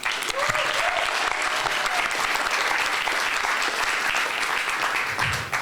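A crowd at a Portland mayoral debate applauds loudly and continuously, a thick sustained roar of clapping with a faint voice underneath near the end.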